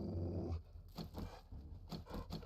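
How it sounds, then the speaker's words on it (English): A dog growls in the survival game 7 Days to Die, a few short low rasping snarls and pants close by in a quiet space, with no talk. "Hey, doggo."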